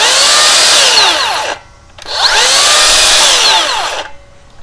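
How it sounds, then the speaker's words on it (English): A Makita XGT rear handle circular saw makes two loud, close cuts through treated 4x4 lumber, each a harsh high whine lasting about one and a half seconds, separated by a short pause as the motor winds down. "So I've got a nice piece of treated 4x4, something I commonly cut with a lot of saws."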